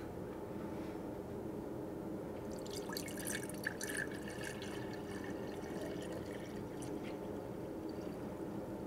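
Water poured out of a container into a measuring vessel after a wetland levee model experiment, a splashing, trickling pour that starts about a third of the way in and runs steadily over low background rumble.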